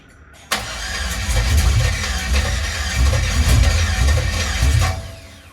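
A Camaro SS fitted with a junkyard engine cranks and fires with a sudden burst, then settles into a loud, rumbling idle with uneven surges close by before cutting off near the end.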